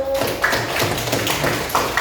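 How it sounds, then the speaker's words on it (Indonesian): Children in a classroom clap for a classmate, a brief burst of quick, uneven hand claps close by. "Kasih tepuk tangan dulu"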